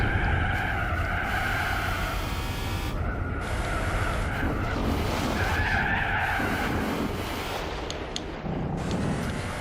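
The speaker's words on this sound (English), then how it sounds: "Slam the brakes." A car in the Gran Turismo 4 racing game brakes hard and skids, a steady loud tire squeal over the roaring engine lasting throughout with no pause.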